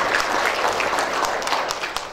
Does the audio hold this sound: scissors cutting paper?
no